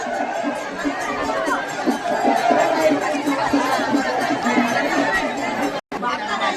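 A dense crowd packs a village palkhi procession, with a continuous roar of overlapping chatter, shouts and nearby voices filling the air and barely letting up.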